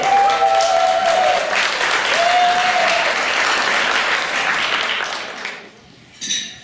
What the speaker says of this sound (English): Let's give a big round of applause for the brother and sister of our bride, Angela and Eric.